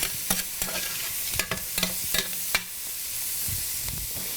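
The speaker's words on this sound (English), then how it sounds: "now going to take these beautiful mushrooms, already sliced, and toss it in. And I've got my temperature on high heat right now." Sliced mushrooms frying in a pan over high heat, giving a continuous hissing sizzle punctuated by several sharp stirring clicks and scrapes, with no voices.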